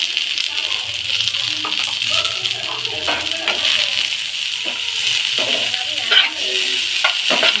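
Mushrooms fry in a pan with salt, turmeric and red chili powder, giving a steady close sizzle while a spoon stirs and scrapes at intervals, with occasional light clinks of utensils.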